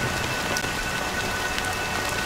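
Steady, dense rainfall in the game Honkai: Star Rail, a constant close hiss of drops hitting surfaces with faint individual splashes and no other sound over it.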